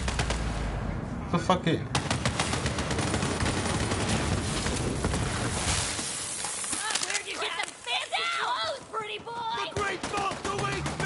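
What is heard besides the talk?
twin guns firing in video game Borderlands 3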